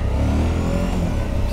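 A 2021 Suzuki V-Strom 1050 XT motorcycle accelerates hard to overtake on the road, its engine note loud and sustained with continuous wind and road roar.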